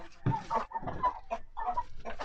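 Chickens cluck close by in short, uneven bursts, several birds overlapping in quick chatter over a couple of seconds with brief pauses between calls.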